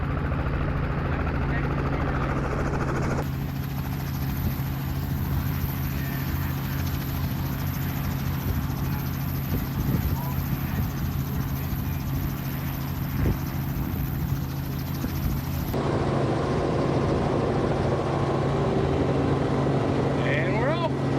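A passenger helicopter in flight over Myrtle Beach gives a loud, continuous rotor and engine roar with a steady throbbing drone that fills the whole stretch, while people chat over it inside the cabin.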